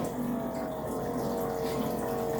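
Water runs steadily from a small gadget attached at a kitchen faucet, a smooth continuous rushing stream with a faint hum, close and even, with no voices.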